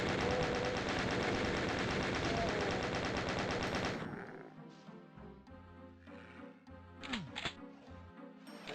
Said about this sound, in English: It's the chain gun.